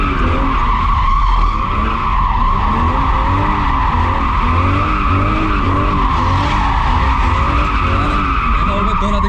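A car drifts with its tires skidding, making a continuous loud squeal that wavers over a rumbling engine and lasts the whole stretch.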